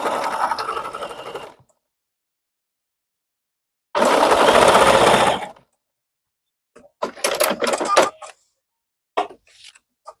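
A sewing machine runs a short test stitch for quilt appliqué in three separate bursts, a long whirring run, a second run, then quick stuttering stitches, all close and loud with silence between.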